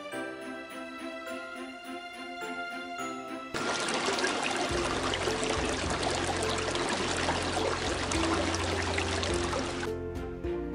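Running water splashes steadily over a small toy mouse being washed, a loud continuous pour lasting several seconds over light background music.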